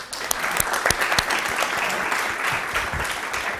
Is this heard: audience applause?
yes